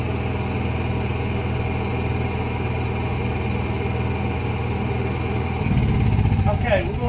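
A Honda EU7000is fuel-injected generator runs with a constant, loud engine hum and low drone throughout, shifting in tone near the end.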